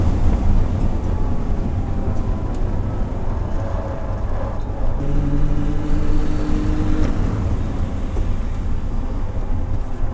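Racing car engine roaring loud and continuous as a car overtakes another at a corner during a circuit race, with a dense, steady drone and slight pitch shifts as the cars pass.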